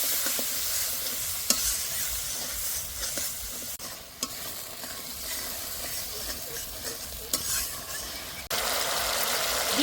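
Salt and turmeric are sautéed in a pan for a meatless ridge gourd and lentil dish, giving a continuous close hiss of frying with frequent spatula clicks and scrapes, no voices.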